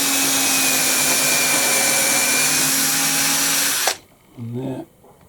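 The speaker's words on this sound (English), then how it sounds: "3 or 4 millimeter holes right the way through this back" Power drill boring 3-4 mm holes through a wooden back piece, a steady close whine held for about four seconds before cutting off, followed by a brief voice.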